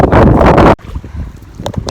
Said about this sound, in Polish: Rany, jaki wiatr jest straszny.